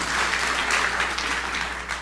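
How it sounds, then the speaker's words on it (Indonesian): A church congregation claps together in dense, sustained applause that fills the room evenly for a couple of seconds. "Tepuk tangan yang meriah untuk kemuliaan Tuhan"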